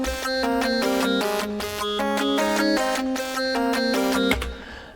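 A Surge synth wave sequence plays a jumpy, bright run of rapid tonal steps with a rich stack of harmonics, steady and loud for about four seconds before cutting off into a brief decaying tail.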